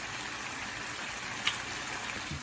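Heavy whipping cream poured from a small jug, a soft, continuous liquid trickle close by with a faint clink partway through, no talking.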